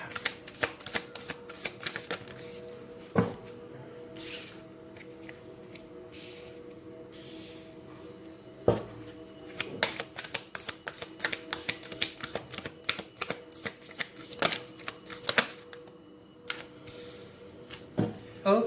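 An oracle card deck is shuffled by hand, a close run of quick papery riffles and sharp card snaps in irregular bursts, with brief quiet gaps between handfuls.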